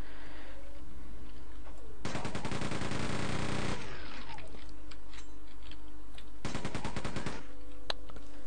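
Machine gun fire in the PC shooter Quake 2: two loud, dense bursts of rapid, evenly spaced shots, the first about two seconds long and the second shorter, with a quiet game ambience between them.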